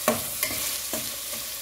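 Ground beef with a garlic clove fries quietly in a pan, a soft sizzle broken by a few scraping strokes of a spoon.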